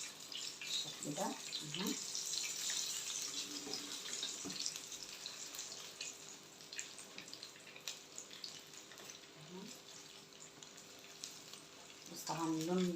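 Crispy potato balls fry in oil and get turned in the pan, making a soft, continuous sizzle with occasional light scrapes and clinks, heard quietly and close.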